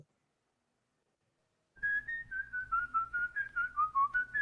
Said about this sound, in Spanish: Silbando, muy bien.